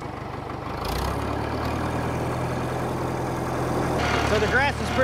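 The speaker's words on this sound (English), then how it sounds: "We're gonna run the tractor at a low RPM, just buzz around real quick." A tractor engine runs at low RPM on a hay field, a loud, steady close-up drone with a slight shift in tone partway through and a few faint higher squeaks near the end.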